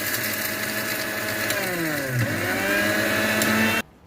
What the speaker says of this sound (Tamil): ஸோ இப்போ நம்ம முந்திரியை அரைச்சாச்சு.